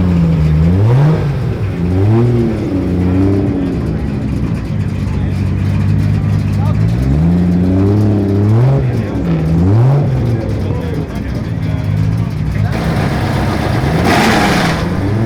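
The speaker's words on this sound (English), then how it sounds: "Look at this Supra leaving." A Toyota Supra pulls away at a car meet, its engine revving in several rising and falling pulls over steady crowd and traffic noise, loud and close throughout.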